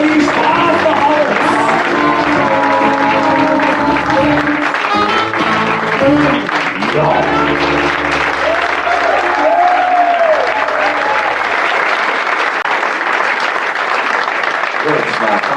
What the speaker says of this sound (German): Und jetzt hier viel Applaus